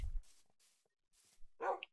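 A single short dog bark from the video game Minecraft, clear and fairly close, with faint scattered game noises before it and near-silence around it.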